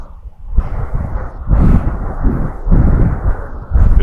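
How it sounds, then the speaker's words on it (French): Rough sea surf and gusting wind on the coast in a moderate 20 km/h wind, heard as loud, rolling low roars that surge in repeated waves with wind buffeting the microphone, no speech. "La mer, elle se déchaîne là."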